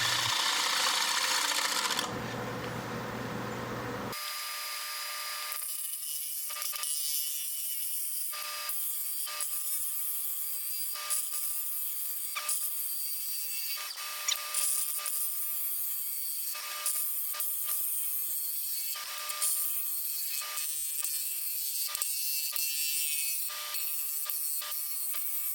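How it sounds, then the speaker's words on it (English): Sanding a square zebrano wood and resin platter on a lathe, up to fine 500 grit: a steady, bright abrasive hiss with rhythmic scraping pulses as the paper moves across the spinning piece, close and continuous, with no talk. "Once again, I sanded up to 500 grit,"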